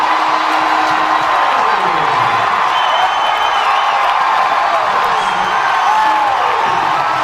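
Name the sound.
cheering crowd on a played baseball broadcast after walk-off home run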